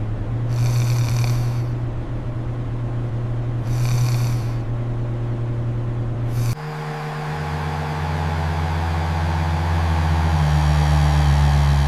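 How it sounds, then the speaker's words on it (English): Slow, soft snoring with two drawn-out breaths early on, then a steady low drone takes over for the rest. "Soft snoring."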